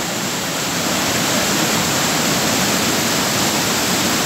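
A stream tributary flowing toward the River Carron near Larbert Viaduct rushes continuously, a dense, loud, steady wash of water noise with no breaks, heard close with no voices.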